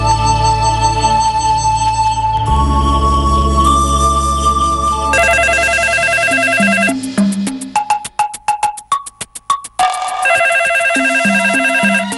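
A telephone rings with an electronic ringtone melody, loud and close, its repeating tones changing pitch over about twelve seconds with no voices.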